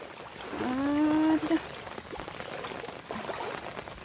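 Floodwater after heavy rain pours down like a waterfall in a constant broadband rush, close and steady. A voice rises briefly above it near the start.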